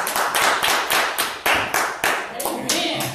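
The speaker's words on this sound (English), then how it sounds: "Give the Lord a hand clap of praise." A church congregation claps in praise, a run of loud, distinct group hand claps in a steady rhythm roughly every half second, close and punchy, with faint voices under them.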